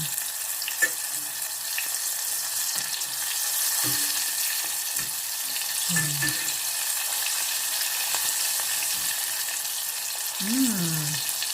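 Small fish in a pan at home keep frying with a steady, close hiss and sizzle after being flipped, broken by a few clinks and scrapes of a utensil against the pan.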